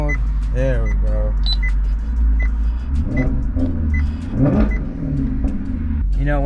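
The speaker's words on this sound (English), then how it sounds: "It's a V8, it's a Ferrari V8" A Ferrari V8 in sport mode accelerating from inside the car, its engine note loud and close as it rises and swells in pitch through several pulls, with a few small electronic beeps over the cabin drone.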